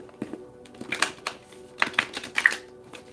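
Tarot cards shuffled by hand during a reading, giving a few short papery riffles and soft snaps in scattered bursts, close and moderately quiet with no talking.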